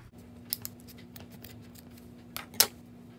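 Scissors snip into a Beanie Baby plush toy near the belly, a few quiet crisp cuts, one early and a sharper cluster near the end, close by with no talking.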